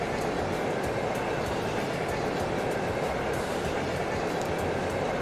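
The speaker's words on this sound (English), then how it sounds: "We're on a train!" Steady train rumble from a ride in the video game Trails of Cold Steel, a loud continuous rolling roar with faint rhythmic wheel clicks, no voices over it.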